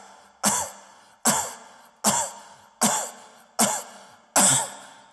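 Six harsh, evenly spaced coughs from one person ring out close and alone, each a sharp burst that trails off before the next.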